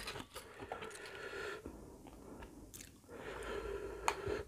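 Giant oysters from Surat Thani being chewed up close, with repeated wet, squishy bites and crunchy chewing sounds that continue steadily throughout with no talking.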